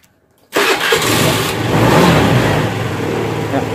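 A fuel-injected Beat FI motorcycle engine, previously sputtering and showing a blinking fault code, cranks and fires after a half-second of silence, then runs loud and steady up close.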